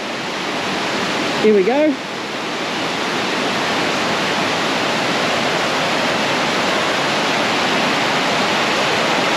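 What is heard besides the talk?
fast-flowing water of Mae Ya waterfall, Chiang Mai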